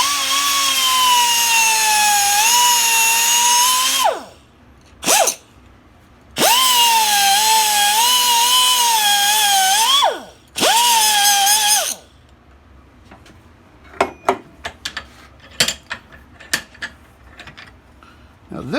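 A power tool cuts two tabs off a 1968 Chevelle GM A-body door hinge held in a vise. Several loud, whining bursts sag in pitch under load, with short pauses between them, followed by scattered metallic clanks and taps.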